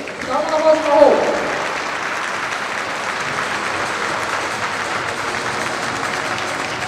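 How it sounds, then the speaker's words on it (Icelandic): Spectators at an Icelandic horse show applaud a group of offspring of the stallion Stæll frá Miðkoti, a voice over the loudspeaker briefly at the start, then sustained crowd clapping, steady and fairly distant. "Ég held að sé í lagi að klappa fyrir þeim."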